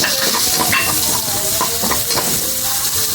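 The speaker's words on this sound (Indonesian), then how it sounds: "Selanjutnya kita memasak dagingnya ya, kita kasih minyak" Meat frying in oil with garlic and chili, a dense steady sizzle with stirring scrapes and occasional clinks of a utensil against the pan, close and continuous throughout.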